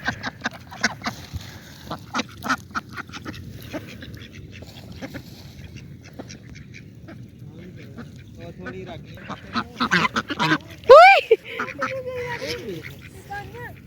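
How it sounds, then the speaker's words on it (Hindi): Large ducks quack and honk in a loose, irregular series, close by in an outdoor home setting, with a woman calling to them and a louder burst of calls near the end. "वो बड़ी वाली डक्स भी आ गई है, कितनी खूबसूरत लग रही है"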